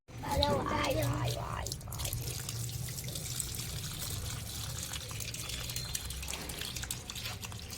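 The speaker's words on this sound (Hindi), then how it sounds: "पानी तो खोल दो, डालो जल्दी" Water gushes from an opened tap or hose onto a home kitchen garden, a steady rushing pour that runs continuously; people talk briefly at the start, then the flow carries on alone.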